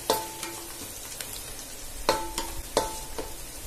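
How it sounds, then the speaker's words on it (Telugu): Onions fry in a pan for veg pulao, a steady close sizzle broken by several sharp scrapes and clinks of a spoon stirring, with no speech. "ఇప్పుడు ఆనియన్స్ వేగినాయి లేదా చూసుకుందాం మనం ఇంకా ఇంకొంచెం వేగాలి"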